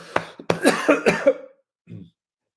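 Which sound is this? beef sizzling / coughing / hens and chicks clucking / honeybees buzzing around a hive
coughing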